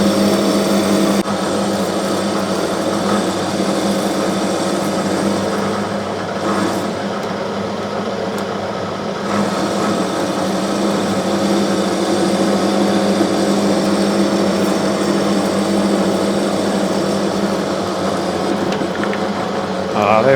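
Metal lathe cutting and parting off hex nut stock for Whitworth nuts, manually fed with coolant; a steady, loud, continuous machining drone with a constant mechanical hum running unbroken throughout.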